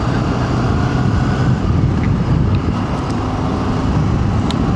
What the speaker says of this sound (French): Donc ouais, faire tourner un petit peu ce moteur.